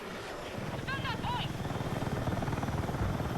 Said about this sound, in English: Let's get this attack helicopter here.